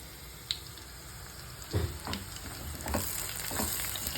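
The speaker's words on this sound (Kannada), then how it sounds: "ಇವಾಗ ಈ ಆನಿಯನ್ನ ಫುಲ್ಲು ಬ್ರೌನ್ ಆಗೋ ತನಕ ಆಯಿಲಲ್ಲಿ ಸಾಟೆ ಮಾಡಬೇಕು" Onion and mashed garlic sauté in hot oil in a pan, giving a steady close sizzle with a few stirring scrapes and clinks rising above it.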